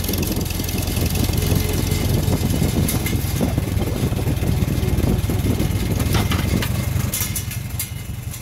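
Farmall M tractor with an M&W 9-speed transmission idling in fifth gear at about 4 mph after dark, a steady low engine rumble running unbroken throughout.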